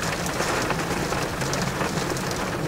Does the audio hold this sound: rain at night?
yes